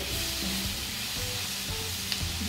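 Tomatoes with a little salt sizzle and soften in a pan for a matar paneer curry, a close, steady hiss with occasional soft stirring scrapes and no talking.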